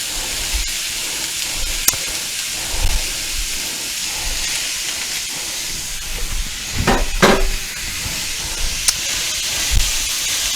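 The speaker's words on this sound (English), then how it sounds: "I'm going to add all our onion in. You can hear that sizzle." Chopped onions sizzle as they hit heated olive oil in a pan for chicken and shrimp paella, a steady close hiss with a brief louder burst partway through.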